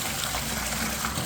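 A borewell pours water into an underground sump, producing a constant close gush with faint bubbling texture, unbroken and without speech.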